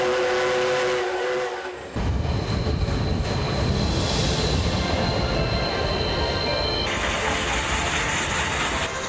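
A heritage steam locomotive hauling passenger carriages on a Taiwanese railway, a loud steady rumbling roar of the train running close by, with a sudden rise in noise early on and a sustained whistle-like tone later.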